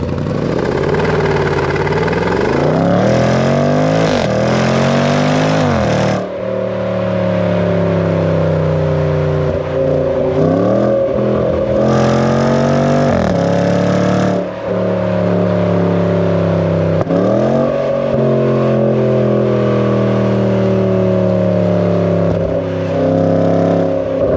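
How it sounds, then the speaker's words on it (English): Supercharged V8 of a Range Rover Sport SVR revs repeatedly, loud and close, its pitch climbing and falling through several throttle blips and sustained pulls between brief lulls. "it also produces some of the most awesome noises I've ever heard from a car."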